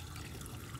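Water poured over the top of a fish pond's surface filter to flush out dirt, giving a soft, steady close-up splash and trickle for under a second with no talking.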